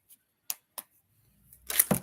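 Tarot cards are shuffled by hand: a few crisp, isolated card snaps, then a short burst of close, rustling shuffling at the end.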